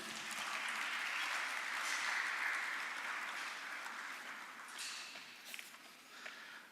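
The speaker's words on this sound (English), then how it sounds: "Can we have an applause for him?" A seated audience at a FAFAI 2019 event welcomes a guest to the dais with applause. The clapping is soft and distant but steady, then thins out into a few scattered claps near the end.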